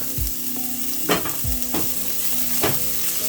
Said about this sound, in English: Once my oil is hot enough, I'll go in with my onions and my garlic.